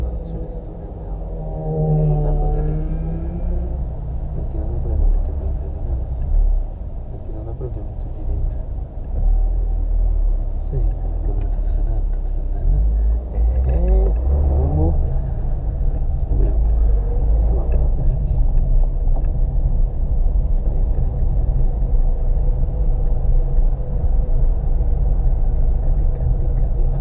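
Small Fiat Uno car driving slowly and maneuvering to park at an Uno car meetup, a steady low engine rumble and road noise heard from inside the car throughout, with voices talking over it.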